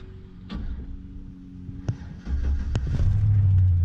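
A car with 138,000 miles on it cranks with a few clicks and clunks, then catches and settles into a steady, loud low idle rumble, up close with no talking.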